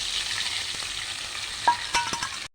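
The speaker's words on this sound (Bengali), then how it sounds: "তেলটা গরম হয়ে গেছে, কালো জিরে ফোড়ন দিয়েছি। এবার পটলের এটা ছেড়ে দিয়ে দিলাম।" Pointed gourd paste sizzling in hot oil tempered with nigella seeds, a steady close hiss throughout with a couple of brief sharper crackles near the end before it cuts off.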